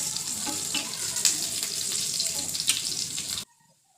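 Panch phoron spices sizzle in hot oil, a close, steady hissing crackle that keeps up for a few seconds and then stops abruptly, leaving near silence.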